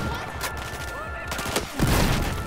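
Bursts of rapid gunfire and muffled blasts crackle in quick succession, with a heavier boom partway through, in the video game Battlefield 4.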